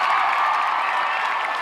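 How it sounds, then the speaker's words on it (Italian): Crowd applauding at a concert in Catania, a dense, steady wash of clapping and crowd noise, loud and continuous throughout. "Fate un applauso per lui, Catania"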